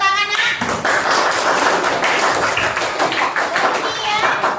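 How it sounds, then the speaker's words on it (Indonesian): A classroom group claps together in a loud, continuous patter, with children's voices mixed in throughout. "Berikan tepuk tangan"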